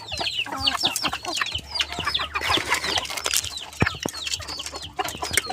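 Two hens clucking inside a cage in a Filipino backyard, a busy run of close, repeated clucks and short squawks from the birds throughout.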